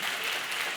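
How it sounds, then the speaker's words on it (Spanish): Applause from an audience at a women's leadership panel discussion, a brief dense wash of many hands clapping at steady loudness. "Si podéis aplaudir."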